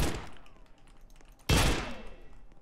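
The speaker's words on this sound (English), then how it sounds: "this guy's staying in the same area just shooting people" Gunfire in the Roblox game Cowboys vs Sheriffs: a sharp, loud shot bursts out midway and decays, with fainter shots and rumble before it.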